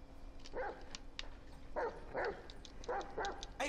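Dog barking in Grand Theft Auto 5, a series of short, fairly quiet barks and yips in uneven bursts, heard alone over faint game ambience.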